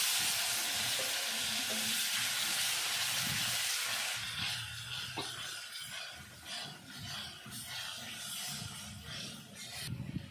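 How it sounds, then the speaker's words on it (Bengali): Spice masala sizzling in a pan for a banana-flower kofta dish, a bright loud frying hiss that drops and turns softer and bubbly once water is added, with light stirring sounds. "ভালো করে কষিয়ে নিয়েছি, দিয়ে দেবো একটু জল"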